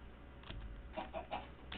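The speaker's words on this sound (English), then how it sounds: "Maybe I should keep this chicken around." A chicken in Minecraft PS1 Edition gives four short, muffled clucks in quick succession, fairly faint and alone.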